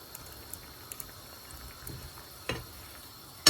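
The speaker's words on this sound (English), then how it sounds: "Once the water boils, add the kofta balls." Water comes to a boil in a pot for mutton kofta curry, a faint, steady simmering hiss broken by a few soft ticks and a brief louder bubble or clink near the end.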